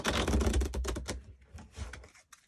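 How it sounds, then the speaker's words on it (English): A deck of printed playing cards is riffle shuffled on a tabletop, a fast rattling flutter of many card edges snapping together, loud and close, slowing into a few softer ticks at the end, with no talking. "we'll actually do a real, you know, a real nice riffle, just to prove that I can shuffle cards"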